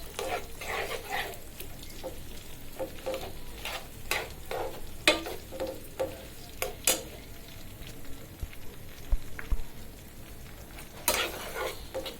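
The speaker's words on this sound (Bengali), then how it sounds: "পেঁয়াজ, রসুন, কাঁচামরিচ ভালোভাবে তেলে ভাজা হয়ে যাক" Oil sizzles and crackles steadily at close range as onion, garlic and green chili fry, with occasional stirring clinks and scrapes of a utensil in the pan.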